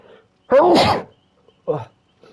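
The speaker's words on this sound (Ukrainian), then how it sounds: "Ой, зараз чихну." A single loud, close sneeze bursts out alone, followed by a few quieter breathy sounds and short fragments of voice.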